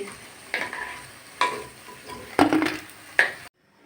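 Cauliflower pakoras and egg chops frying in hot oil in a pan, a steady close sizzle broken by several sharp scraping stirs and clinks of a utensil against the pan before it cuts off.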